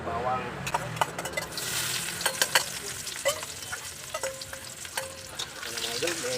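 Garlic sizzles and crackles in hot oil in a pan while being stir-fried for pancit, with scraping stirring strokes and light clinks of a utensil close by.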